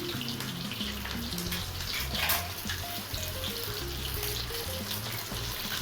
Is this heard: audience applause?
no